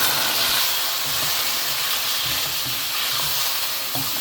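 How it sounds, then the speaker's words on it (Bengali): Meat is added to fried onions in a pot for Dhaka-style haleem, producing a loud continuous sizzle and steamy hiss with faint stirring scrapes and no talking. "আমার পেঁয়াজের বেরেস্তা হয়ে গেছে, আর হাফ রাখি দিব। আমি মাংস ছাড়ি দিব।"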